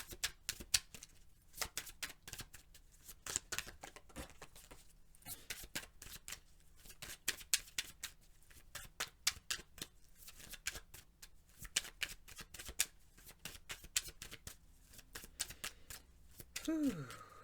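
Tarot cards shuffled by hand in rapid riffling bursts with brief pauses between, close and fairly quiet, with no clear talking.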